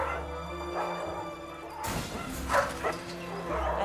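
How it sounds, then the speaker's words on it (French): Several dogs bark and yip in a noisy dog pound, with a crash or thud partway through and whimpering under steady background clamor; the barking is mid-distance and fairly loud. "Il y avait tellement de bruit, et tous les chiens étaient tellement tristes."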